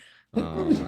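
A single abrupt, voiced burst after a brief silence, close and fairly loud, like a sneeze with a throaty, drawn-out tail.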